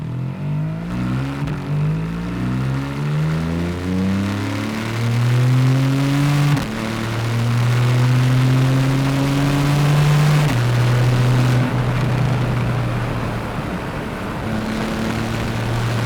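A Porsche 911 Targa 4S (991.1) accelerating hard, its engine note climbing steadily through several gears with short dips at each shift. The sound is loud and close, with no talking.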